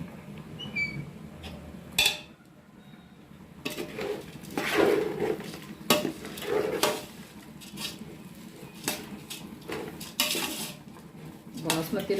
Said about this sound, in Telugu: పలావ్కి మంచి టేస్ట్ రావాలంటే ఈ విధంగా రైస్ బాగా వేపించుకోవాలి.